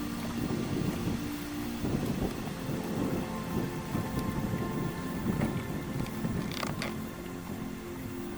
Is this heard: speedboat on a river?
yes